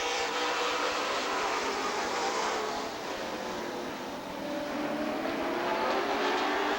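Stock cars roar around the Rockford Speedway oval in a steady, loud wash of engine noise as the field takes the green flag, with a slight dip and swell as cars pass.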